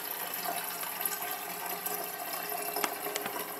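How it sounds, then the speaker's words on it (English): Water runs into the glass carafe of a Mr. Coffee BVMC-PSTX91 coffee maker from its spout, a soft, continuous trickle and splash with a few faint clicks, quiet and steady throughout. "and just fill up the carafe that way"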